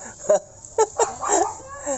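Dogs barking and whimpering at a small cat, a few short sharp yelps and a longer whining cry, close and loud, with people's voices mixed in.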